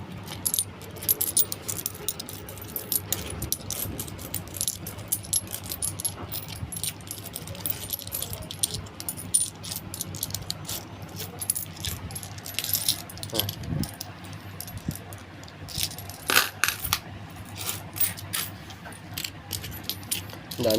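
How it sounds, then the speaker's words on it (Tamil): Indian rupee coins, ₹5 and ₹2 pieces, are sorted and picked out by hand, with irregular metallic clinks and jingles close up throughout. "அதுக்கப்புறம் ₹2 காயின் பொறுக்கணும்."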